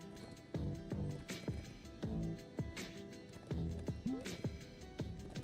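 A horse gallops in the video game Nobody Saves the World, with rhythmic clip-clop hoofbeats, a brief whinny near the end, and game music underneath.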